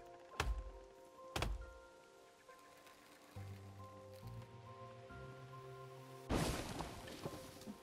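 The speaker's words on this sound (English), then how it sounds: "We're going to cut down this final tree." Axe chops against a tree in the survival video game The Forest: two sharp thunks early on, then a low creaking groan and a louder crashing burst near the end as the tree comes down, with no talk.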